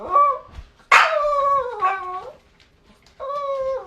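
Dogs bark and let out drawn-out howling cries in a close indoor space, several loud harmonic yelps rising and falling in bursts with short gaps between them.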